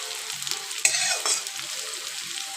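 Chopped tomatoes stirred and fried in a pan, a close sizzle and crackle with scraping strokes of a utensil, moderately loud and continuous, without any voices.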